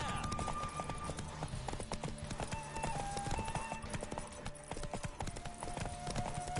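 A horse gallops at speed during a race in The Witcher 3, rapid steady hoofbeats close and loud over game music and ambience.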